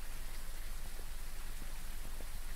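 Steady rain pouring in the Phasmophobia video game, a dense even hiss of drops with no pauses, fairly quiet and heard alone.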